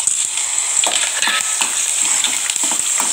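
Chana dal, mustard seeds and cumin sizzle steadily in hot oil for a Telugu gongura dal tempering, with a constant bright crackle and occasional spoon-stirring clinks, close and continuous with no talk.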